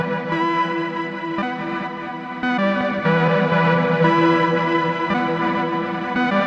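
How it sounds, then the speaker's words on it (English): A sustained, effected instrument tone through a Pladask Elektrisk Kniv pedal grows denser and more washed-out partway through as a knob is turned up, its reverb tail swelling and thickening as the sound steps up in level. "as I up this knob, you'll hear the reverb start to really thicken up"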